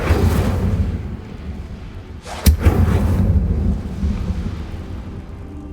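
The Incendio fire spell is cast in the Hogwarts Legacy video game: a sharp crackling burst stands out against a steady rumbling game backdrop, loud and close, with no talk.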